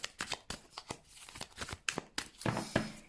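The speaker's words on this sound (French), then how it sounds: "on va prendre aussi 3 cartes du tarot d'Osho" Osho Zen tarot cards being shuffled and drawn by hand, producing quick, close bursts of riffling and flicking that repeat in an uneven rhythm.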